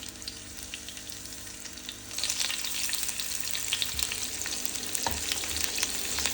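Chopped garlic and green chili go into hot oil in a pan for masala vegetable Maggi, a quiet background hiss that jumps into a loud, steady sizzle, with occasional soft stirring scrapes and no talk.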